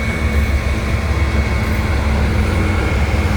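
FECR freight train locomotives rumble steadily as they slow to a stop, a loud, continuous low drone with a sustained tone above it and no talking.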